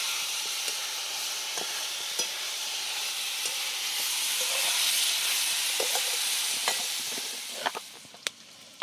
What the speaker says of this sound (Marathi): आणि वाटाणा आणि बटाटा टाकून दिली त्यात आता सगळं चांगलं कांद्यात परतून घेते